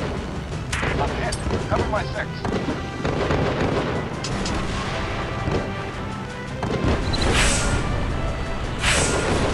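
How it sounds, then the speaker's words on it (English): Heavy gunfire and explosions from the War Wings aerial combat game: dense booms and rapid bursts of shots roll on continuously and loudly, with a person speaking briefly over the din. "Taking heavy fire."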